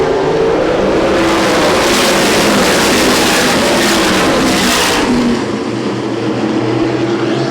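USAC National Sprint Cars racing at Winchester Speedway, a loud continuous roar of engines revving hard through the corners, one car surging close by before the sound eases into a lower drone.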